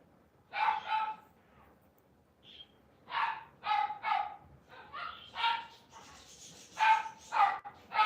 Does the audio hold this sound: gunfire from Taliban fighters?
no